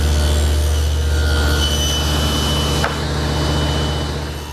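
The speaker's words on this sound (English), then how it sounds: "I'm just using the saw blade. I'll make one pass on one face, turn it around, make another pass" A table saw blade cutting a centered groove along the face of a wood board for a linen press: a loud, steady whine and roar of the spinning blade through the wood, constant for several seconds, with no talk.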